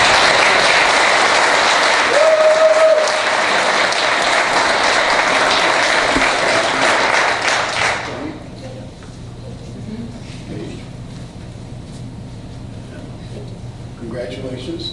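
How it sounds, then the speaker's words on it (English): A room at a village board meeting breaks into loud, dense applause that holds steady, then drops off sharply partway through, leaving quieter room noise and scattered sounds. "Let's give everyone a big round of applause."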